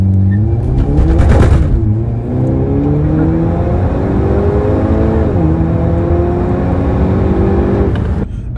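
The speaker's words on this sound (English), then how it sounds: "For front wheel drive, you know, you expect some wheel hop, but it is atrocious from the factory." A front-wheel-drive Hyundai N car revs hard with severe factory wheel hop, its loud engine note climbing in pitch under heavy load with a harsh rattling burst near the start and a steady droning pull afterward.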